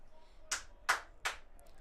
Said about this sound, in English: Smattering of applause from the press box.